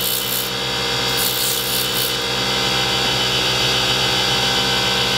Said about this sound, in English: Even at 80 grit, you can use a sanding lubricant to keep the dust down.